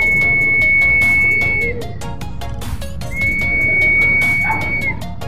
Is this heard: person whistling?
yes